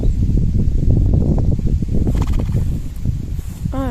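A pony moves around nearby with rustling and shuffling, likely on a dirty, muddy day, then lets out a short whinny at the end. No one speaks.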